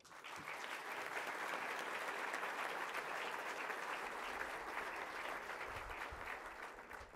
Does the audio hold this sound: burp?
no